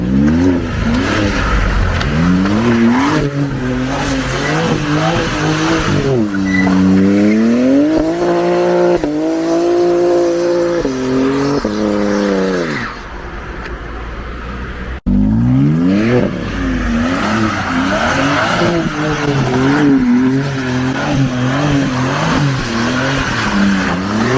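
Rented BMW G80 M3 drifting, the engine revving loudly and rising and falling in pitch through repeated accelerations with tire squeal, briefly dropping off mid-run before surging again, close and continuous.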